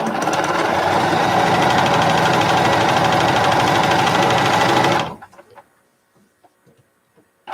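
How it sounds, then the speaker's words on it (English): A sewing machine stitches quilt pieces a scant quarter inch from a drawn line, running loud and steady for about five seconds before stopping, then a few faint handling clicks. "And then sew a scant 1/4 inch on either side."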